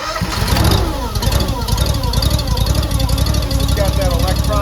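A Wolfe Ridge 17VS-C log splitter engine cranks and catches, then settles into a loud, close, steady running drone.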